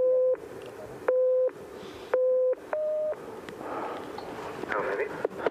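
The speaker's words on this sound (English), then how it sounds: "for this test, David, you're going to try and count the low tones and ignore the high tones." Four short electronic beeps at a regular pace, three at one low pitch and a fourth slightly higher, played as a tone-counting listening test at 6,500 meters on Everest, followed by breathy wind-like noise.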